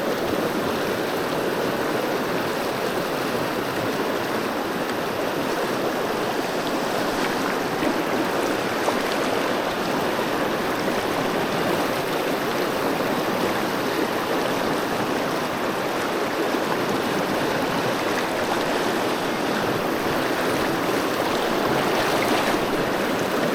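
A fast-flowing river in New Zealand rushes steadily past, a dense, continuous wash of churning water that holds the same full, hissing roar throughout with no other sounds rising above it.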